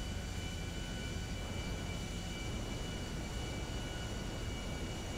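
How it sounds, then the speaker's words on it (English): An airplane flying into an airfield in a Grand Theft Auto game, a constant broad engine roar and drone filling the whole stretch, steady and loud with no talk. "Oh, there's another plane."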